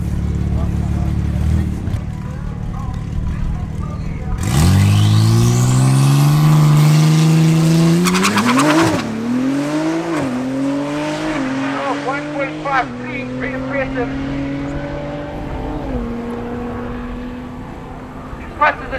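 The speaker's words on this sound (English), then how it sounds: "Up next is a solo run with Africa's fastest G80." A BMW G80 drag car on a solo run at a drag strip, its engine revving hard and pulling away through rising gear changes, loud at first then fading into the distance while an announcer talks over it.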